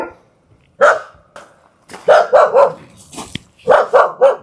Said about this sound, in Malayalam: എൻ്റെ ഇവിടെ കുറേ പട്ടികളുണ്ട് കേട്ടോ